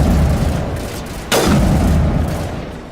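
A single heavy sniper rifle shot from Mass Effect Legendary Edition, one sharp loud crack with a booming tail that fades away.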